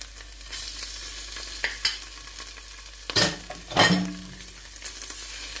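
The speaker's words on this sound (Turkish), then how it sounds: "Onu da biraz soğanla yediriyorum, kavuruyorum." Tomato and pepper paste sizzling as it is sautéed with onions in a pan, a soft steady fry broken by a few scraping stirs and utensil clinks, with no talk.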